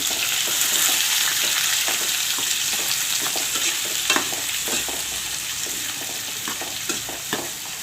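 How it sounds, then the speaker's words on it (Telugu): Chopped pieces of three large onions fry over high flame in hot oil, giving a loud, steady sizzle throughout with occasional stirring scrapes and no voices. "ఉల్లిపాయ ముక్కలు మొత్తం వేసుకొని 1 నిమిషం ఊరకలా ఫ్రై చేసుకుందాం."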